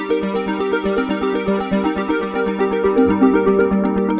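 A synth line runs through a Boss DM-101 analog delay in vintage mode, modeled on the DM-1 pedal, with a Juno-style chorus adding hiss; steady repeating notes with echoes trail over a continuous moderate-level texture.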